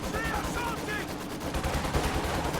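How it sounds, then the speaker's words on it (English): Maxim machine gun firing in the video game Company of Heroes 2 during a 2v2 match, rapid bursts rattling steadily at mid distance amid battle noise and game effects. "I hear Maxim banging away from somewhere."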